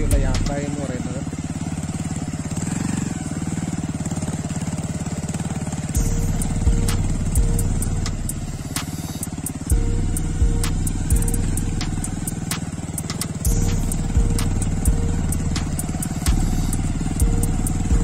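A motorcycle rides along a rough, difficult road with a steady, loud engine drone, and the engine note surges and drops repeatedly as the bike bumps over the uneven ground.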